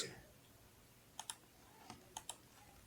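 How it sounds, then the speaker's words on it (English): Keystrokes on a computer keyboard during a Blender modelling session: a few quiet, sharp clicks in two small pairs, the first near the middle and the second near the end, over a low room hum with no talk. "So push Ctrl R on the keyboard"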